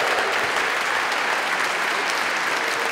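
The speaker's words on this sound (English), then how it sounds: "make some noise! Please welcome Kieran Hurley!" Steady applause from a large audience, dense and continuous clapping filling the whole stretch with no voices breaking through.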